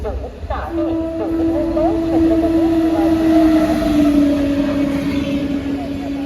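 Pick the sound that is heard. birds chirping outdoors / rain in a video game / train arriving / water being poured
train arriving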